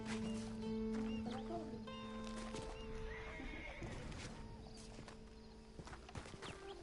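A horse in a PS4 video game neighs and whinnies in a drawn-out call over clopping hooves, with game music tones and ambient effects behind, fairly faint overall.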